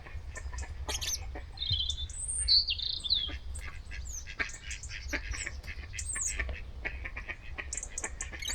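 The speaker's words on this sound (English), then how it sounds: "Got a little robin up there." A small robin sings high, thin warbling phrases from a tree, clear above a low outdoor rumble, mixed with scattered calls from other birds.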